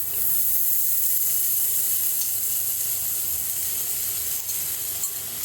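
Soaked freekeh sizzles in a pan of sautéed onions, peppers and garlic, a steady, close hiss of frying that holds evenly throughout with no talking.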